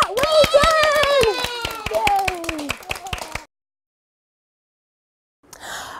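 Children at a tumble tots music session clap in quick rhythmic bursts over a sung children's song, then stop abruptly, followed by silence and a brief noise.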